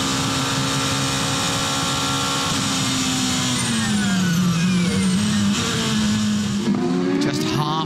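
The number 2 Porsche race car at the Nürburgring six-hour race passes with a loud, steady engine note whose pitch dips and climbs as it runs downhill on the back section, with faint crowd or track noise behind.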